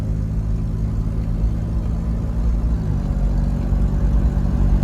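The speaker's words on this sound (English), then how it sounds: "Okay, so I'm driving the Landcruiser" An old Toyota Land Cruiser being driven, its engine a steady low rumble with road noise inside the cab, continuous and fairly loud, with a slight shift in engine tone partway through.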